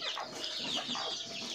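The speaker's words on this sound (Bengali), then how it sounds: "আর এখানে এগুলো হচ্ছে আমার দেশি মুরগি," Native country hens on a small family farm cluck and chatter continuously at close range, a busy flock sound with no talking over it.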